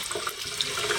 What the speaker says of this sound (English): Let's rinse it off. Don't use hot water for the boots.